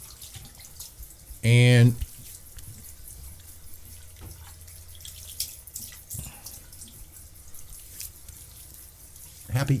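Cold water runs steadily from a tap at a sink during a shave, a soft continuous hiss with light splashing, broken briefly by a single spoken word.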